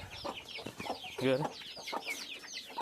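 Chickens and chicks cluck and peep in short bursts close by, with one louder squawk partway through.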